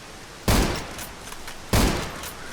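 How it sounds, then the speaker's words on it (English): Two loud, close Mosin rifle shots in the video game Zero Sievert, about a second and a quarter apart, each with a booming tail that fades out. No talking. "2 shots from the Mosin."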